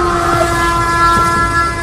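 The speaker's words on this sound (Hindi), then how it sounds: "वो देखो, इसी लाइन पर एक और ट्रेन आ रही है।" A train approaching on a railway line, with a loud, steady rumble and sustained horn tones running throughout, close and unbroken.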